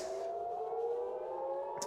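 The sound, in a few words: air raid siren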